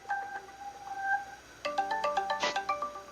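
A phone ringtone plays a short two-note melodic phrase, pauses, then bursts into a louder, busier repeating electronic tune with rhythmic pulses, close and clear with no talking.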